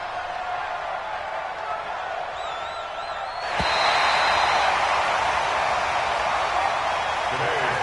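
A home crowd at a Saints at Eagles football game in Philadelphia, with a broad roar of applause and cheering that swells suddenly midway and stays loud, under a commentator's voice.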